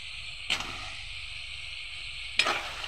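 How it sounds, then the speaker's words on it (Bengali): Tender cauliflower stems sauté in spice paste that has released its oil, a steady bright sizzle broken by two sharp scrapes of a utensil against the pan, no voices. "এটাকে একটু আমি ভালো করে কষিয়ে নেব"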